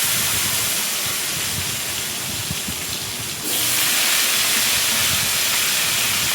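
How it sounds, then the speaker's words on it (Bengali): Potatoes fry in oil in a kadai tempered with nigella seeds, producing a loud, continuous hiss that jumps brighter and stronger partway through. "আলুগুলো ভাজা ভাজা করে"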